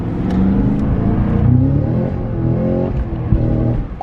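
A sports car engine, heard from inside the cabin of a car with launch control, accelerates hard on a city street, a loud, deep, rising roar that pulls steadily through the gears with no talk over it.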